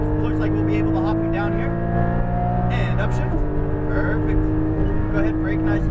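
A Porsche Cayman GT4 accelerating on a track at Speed Vegas, engine droning loud and steady inside the cabin, pitch climbing and then dropping with an upshift partway through, while a voice talks over it.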